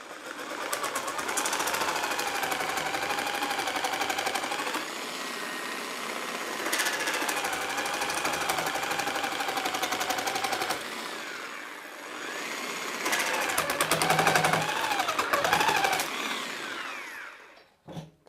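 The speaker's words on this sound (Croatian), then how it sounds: "Hajde da vidimo ovu letvu, da isečemo, stavit ću je u prvu brzinu, da vidimo kako će se tu ponašati." A power saw running in first speed cuts through a wooden slat with a buzzing, rattling whine. The sound comes in three sustained bursts separated by short pauses and stops abruptly at the end.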